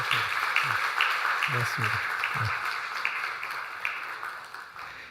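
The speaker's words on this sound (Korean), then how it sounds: "우리 축하한다고 잘 살라고 우리 격려의 박수 보내드리겠습니다." A church congregation applauds newlyweds who have returned from their honeymoon, giving a steady, moderately distant patter of many hands throughout, with a voice briefly speaking over it.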